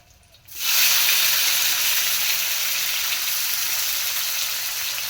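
Loud, steady sizzling of tomatoes frying in a hot pan starts abruptly and continues as a bright, hissing crackle.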